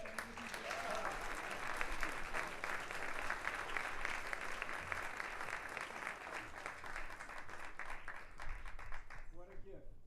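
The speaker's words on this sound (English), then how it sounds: "One more round of applause." Conference audience at an arts summit claps in a sustained round of applause, a broad continuous patter of many hands at a fair distance, with some murmured voices mixed in and the sound trailing off near the end.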